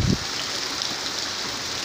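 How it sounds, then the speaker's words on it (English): Hail pours down steadily outdoors, a dense continuous hiss and patter of icy pellets striking surfaces, loud and unbroken after a brief thump at the start. "it's hailing like crazy"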